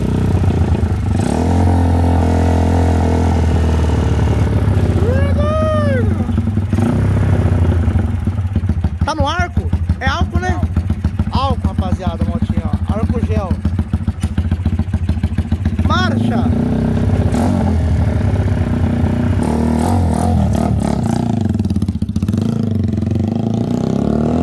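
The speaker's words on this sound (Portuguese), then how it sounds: "a motinha grita, hein, mano" A Honda Titan motorcycle engine bored out to 225cc with 67mm cylinders revs loudly and steadily close by on a street, its pitch climbing and falling, while people talk over it.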